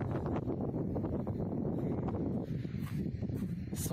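Strong wind buffeting the microphone outdoors at a pyramid site in Ireland, a continuous heavy low rumble with gusty fluctuations and rustling throughout.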